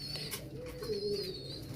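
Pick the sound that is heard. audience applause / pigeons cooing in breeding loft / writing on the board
pigeons cooing in breeding loft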